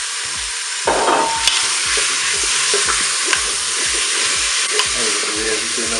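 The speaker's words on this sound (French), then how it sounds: "mon huile est chaude, je vais pouvoir mettre mes oignons" Onions fry loudly in hot oil inside a Cookeo multicooker on its browning setting, a dense continuous sizzle close up, with rhythmic scraping and stirring knocks from a spoon against the pot.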